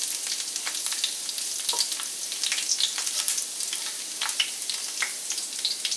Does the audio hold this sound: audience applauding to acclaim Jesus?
no